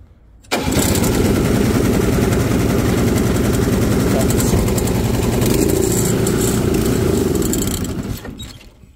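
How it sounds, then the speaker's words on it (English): Snowblower engine kicks into life after a brief pull and then runs at a loud, steady roar for several seconds before cutting off near the end. "that's how you start the snowblower"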